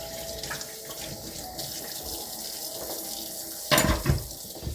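Hot tap water runs steadily into a sink with a constant hiss, followed by a louder splash and clatter near the end.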